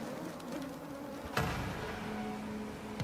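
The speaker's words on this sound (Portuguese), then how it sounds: "Os insetos formam enxames enormes e seguem à procura de uma refeição." A swarm of mosquitoes gives a thin, steady whining buzz with a few brief louder swells as insects pass close, heard alone without voices.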